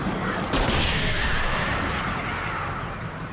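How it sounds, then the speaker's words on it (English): A flare gun fires in Alan Wake Remastered, a loud, sustained burst of roaring, crackling noise with a sharp onset near the start, dense and continuous throughout with no talk over it. "The flare gun. Game changer."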